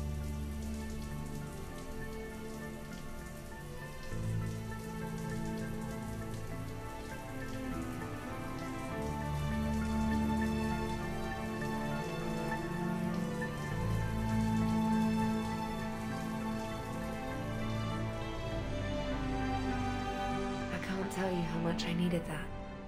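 A shower runs steadily in Mass Effect 3 aboard the Normandy SR-2, a continuous rain-like hiss of falling water that fills the whole stretch with a little low rumble beneath it.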